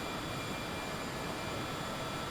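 Steady cabin drone of an aircraft engine in Microsoft Flight Simulator 2020, a continuous broadband hum with no talk over it.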